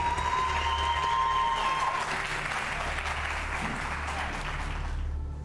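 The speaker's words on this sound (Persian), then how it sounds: "تشویقشون کنی لطفا." A studio audience at a television game show claps steadily in dense, sustained applause that stays loud for about five seconds, then cuts off abruptly.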